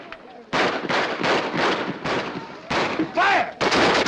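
Gunfire in a dramatic period film scene, a rapid series of loud, close shots and bursts sounding one after another with little pause, with shouted voices mixed in.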